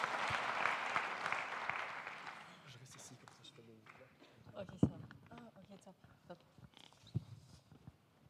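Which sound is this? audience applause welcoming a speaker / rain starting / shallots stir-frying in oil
audience applause welcoming a speaker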